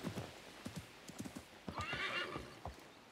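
A horse in Assassin's Creed Mirage clops a few soft hoofbeats, then gives a clear whinny midway before a couple more steps, all fairly quiet.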